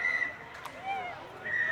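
A referee's whistle sounds at a Kenya Cup rugby match, with shrill blasts at the start and end over steady crowd and field noise.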